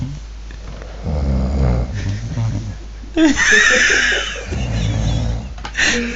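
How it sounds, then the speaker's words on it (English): A man snores loudly in a snoring contest, with rough, rattling breaths coming in a slow repeating rhythm, close by, while other people chuckle and talk over it. "He's snoring like a beast."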